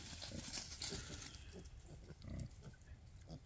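Berkshire piglets and hogs grunt and snuffle in a steady, busy stream outdoors, a cluster of overlapping low grunts moving through a mowed patch toward woods, fairly close with rustling underneath.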